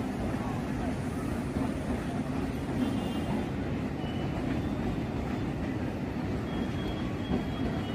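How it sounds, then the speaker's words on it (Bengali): Steady rumbling of a passing 12-car commuter train running close by, continuous and fairly quiet throughout. "2-5 মিনিট অন্তর অন্তরই ট্রেন।"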